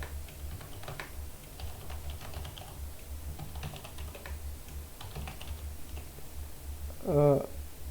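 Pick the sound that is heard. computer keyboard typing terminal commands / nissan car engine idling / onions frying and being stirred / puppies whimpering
computer keyboard typing terminal commands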